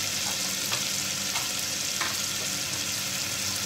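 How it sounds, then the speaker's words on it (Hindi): Water poured into frying masala in a pan for dal, giving a steady loud sizzle with a few sharp crackles and stirring taps spread through it. "इसमें डालते हैं थोड़ा सा पानी ताकि मसाला ना जले।"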